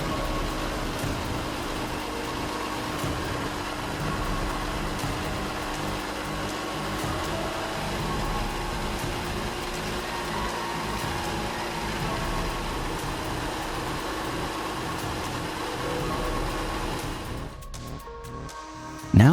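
A Shvetsov ASH-62 nine-cylinder radial engine runs on a test stand, a loud, steady, dense mechanical roar that holds constant before cutting away near the end.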